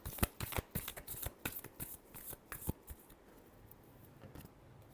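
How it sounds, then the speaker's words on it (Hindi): Tarot cards are shuffled by hand in a quick series of crisp riffling slaps close to the microphone, the flicks thinning out toward the end. "Last shuffle."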